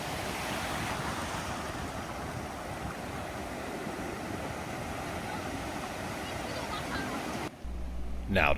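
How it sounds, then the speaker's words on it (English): Ocean surf crashing on the beach at Gulf Shores: a loud, continuous roar of breaking waves mixed with wind rumble on the microphone, which changes abruptly near the end. "The waves are crashing"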